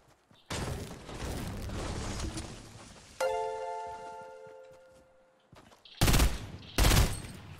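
Rapid bursts of gunfire from a new weapon in the video game Fortnite, dense and loud, then a tonal interlude with a sustained chime, and finally two sharp, heavy blasts close together near the end.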